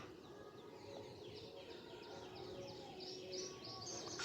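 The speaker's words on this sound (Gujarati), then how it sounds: "કબૂતરા આમાં જોઈ લો પેટીમાં નાખી દીધા છે" Pigeons shut in a box coo and call softly in a steady, faint run of chirps and murmurs, with no voices.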